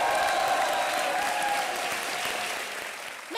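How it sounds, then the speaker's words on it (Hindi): A studio audience at a comedy show applauds for choreographer Ganesh Acharya, a steady wash of many clapping hands that holds evenly and fades slightly near the end. "हमारे मास्टर जी गणेश आचार्य जी के लिए जोरदार तालियां हो जाएं।"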